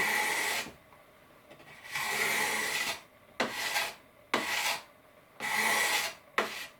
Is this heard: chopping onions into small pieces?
no